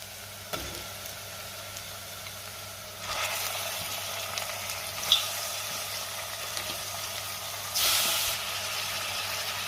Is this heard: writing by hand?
no